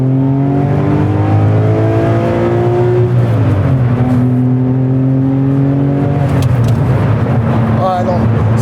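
Naturally aspirated engine of a Porsche 911 996 Phase 1 pulls through the gears from inside the cabin, rising tone dropping at each shift, with people talking over it.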